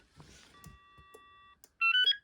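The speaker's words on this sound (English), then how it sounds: "I might have to choose that ringtone." A BT2200 cordless phone plays an electronic ringtone: steady sustained tones, then a brighter warbling melodic burst at the end, close and moderately loud with soft handling noise early on.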